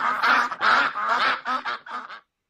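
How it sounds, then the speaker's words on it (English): A loud run of nasal, honking duck quacks, about eight calls in quick irregular bursts close by, ending abruptly in silence. "Those ducks."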